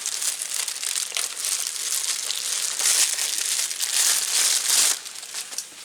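A BOSS MGR350B being pulled from its packaging, with steady plastic crinkling and crumpling close by for several seconds, easing off near the end.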